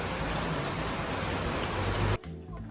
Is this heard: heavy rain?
yes